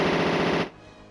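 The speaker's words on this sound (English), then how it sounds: "we'll just SMG him" A short burst of rapid SMG fire from the MS-DOS mecha game Power Dolls, loud and dense for just over half a second before cutting off abruptly into quiet.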